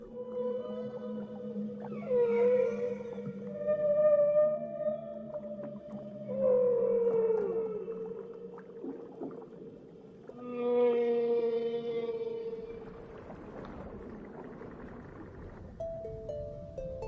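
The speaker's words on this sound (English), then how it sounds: "A whale's song is quite clearly defined, with a recognizable beginning, middle, and end." Whale song of long, tonal moans and rising and falling wails in distinct phrases, some with bright harmonic upper calls, heard alone in open water at moderate distance.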